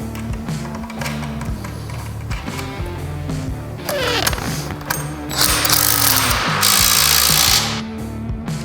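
A power tool drives a nut onto a short-handle Boat2Trailer boat latch, giving a steady mechanical rattle and whir with clicking bursts that grows louder and harsher toward the end, with no talking.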